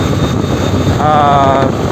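A Honda Shine 125 BS6 OBD2 2025 motorcycle cruising on a highway: a loud, steady rush of wind buffeting the microphone over the constant drone of the engine, with a faint tonal hum rising briefly midway.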